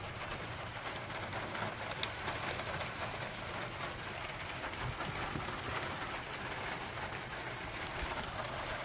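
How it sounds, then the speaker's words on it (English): Heavy rain pouring down outdoors during a Toyota 4Runner thermostat replacement, a dense, steady hiss of falling water with no talk. "It's pouring down rain."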